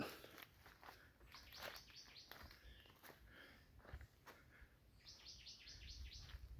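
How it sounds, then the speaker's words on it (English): Several birds chirp and tweet in scattered bursts from nearby bushes in Jamaica, ending in a rapid trilling series, with faint rustling underneath. "So you can hear those birds chirping"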